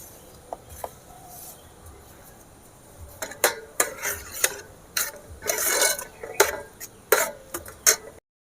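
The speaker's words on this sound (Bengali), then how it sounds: "এভাবে নেড়ে নেড়ে কিন্তু টাইট করে নিতে হবে" Roasted besan and semolina stirred into thin hot sugar syrup for kalakand: soft at first, then a busy run of loud spoon clatters and scrapes against the pot, getting more frequent toward the end.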